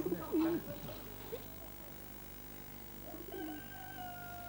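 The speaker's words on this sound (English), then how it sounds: "pigeons that are reared on the roof" Soft cooing of rooftop-reared pigeons in China close by, a few low throaty calls against a quiet background with a faint steady hum.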